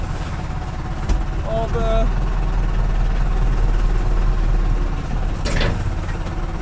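IHC tractor engine with turbo, heard from inside the cab: a steady, loud low diesel drone with a rising turbo whine near the end, while someone speaks briefly.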